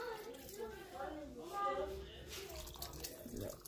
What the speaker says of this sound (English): I'm gonna add some more water to it.